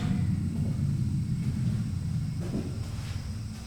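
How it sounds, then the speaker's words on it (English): Low, steady rumble of an airplane passing overhead at an abandoned hillside hotel in Penang, Malaysia, a continuous distant drone with faint wind noise throughout and no voices. "That is a plane going over."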